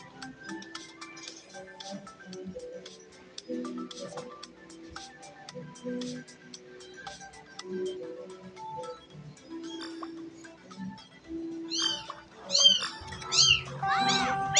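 Over soft background music, a cat meows several times near the end, high and wavering, growing louder and closer.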